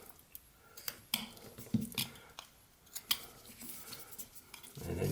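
Knife shaving and trimming wood while whittling a small evergreen tree carving, a quiet run of short scraping cuts at irregular intervals, close and soft with no voice.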